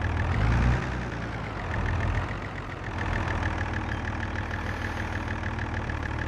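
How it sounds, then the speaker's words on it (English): Tractor pulling trailers in Farming Simulator 22, a steady mid-low engine drone with a constant whine that swells slightly and dips, continuous and close, with no one speaking. "So we'll drive the tractor with the trailers up there"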